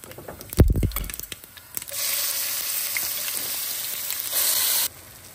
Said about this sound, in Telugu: ఇప్పుడు మనం దీంట్లో పచ్చడిని తీసి దీంట్లో నూనెలో వేసుకుందాం అన్నమాట